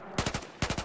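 Two quick bursts of three or four rapid shots each from an SG553 rifle set to burst fire in Battlefield 4, loud and close with a brief gap between bursts.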